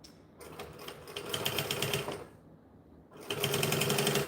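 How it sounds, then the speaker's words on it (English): A sewing machine stitches bonded nylon fabric forward, then back, in two quick bursts of rapid mechanical clatter separated by a short pause, close and clear. "Alright, let's see how this sews. 2 forward, 2 back."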